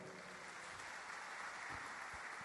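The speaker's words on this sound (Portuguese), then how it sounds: "Podemos dar uma salva de palmas para o nosso Senhor?" A church congregation applauds, a faint, steady wash of distant clapping sustained evenly with no voices over it.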